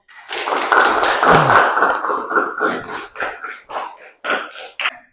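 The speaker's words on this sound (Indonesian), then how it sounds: "Ayo tepuk tangan dulu untuk kelompok 1." Classroom students applaud after a group finishes its presentation in an Islamic religious education lesson, giving a burst of irregular, fairly loud hand claps and taps that thins into scattered claps, with some voices mixed in.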